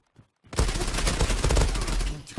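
A loud, sustained burst of rapid gunfire from a video game, a Kriss Vector or M468, erupts after a brief quiet moment and rattles on continuously to the end.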